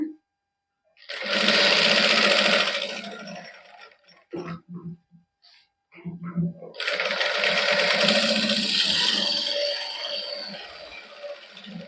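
Sewing machine stitching lace trim onto a plain suit: two long, loud bursts of steady mechanical whirring, separated by a short pause filled with a few brief clicks and handling sounds.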